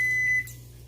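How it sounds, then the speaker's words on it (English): A kitchen timer sounds a single high electronic beep that cuts off after a moment, leaving a low hum behind. "Turn this timer off."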